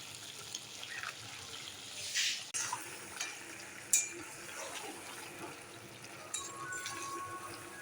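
Chicken for biryani fries in a pan with chili powder added, giving a soft, steady sizzle with occasional stirring scrapes and light clinks.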